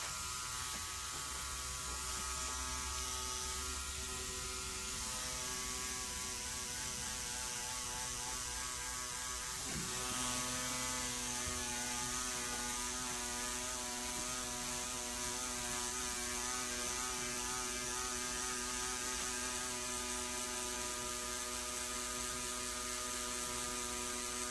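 A tattoo machine buzzes steadily through a freehand tattoo session, a continuous close mechanical drone with a brief stutter midway before running on evenly.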